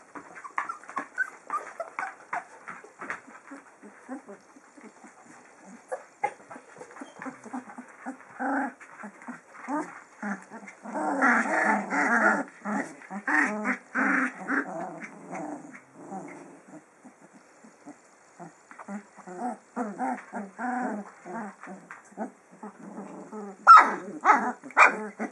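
A dog growls and barks in short bursts close by, with panting and whimpering in between, while people talk over it indoors.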